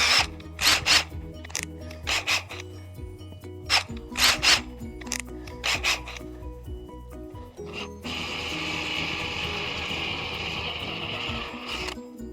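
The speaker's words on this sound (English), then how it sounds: "I'm just going to move up a drill size on." A handheld drill bores out soft rivet heads on a Porta-Bote folding boat, coming in repeated short bursts with pauses, then a steadier sustained grind near the end, close and loud with no talk.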